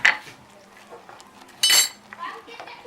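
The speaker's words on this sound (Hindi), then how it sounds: "इसको हम अच्छे से चलाएंगे" A spoon stirs milk and sugar for custard in a pan, with a few metallic clinks and a louder scrape near the end, while a voice talks faintly in the background.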